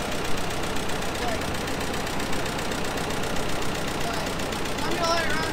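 Car engine running with thick Lucas oil and 15W50, idling at an even, steady rumble with a faint ticking pulse and no voices.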